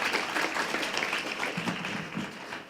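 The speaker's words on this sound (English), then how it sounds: "Can I just have a round of applause to close it out?" Audience at a community health evaluation forum gives a steady round of applause, dense and fairly loud from start to end.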